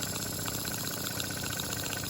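A small Stuart S50 model steam engine runs at high speed while warming up, giving a quiet, steady, rapid chuffing rhythm with no talk over it.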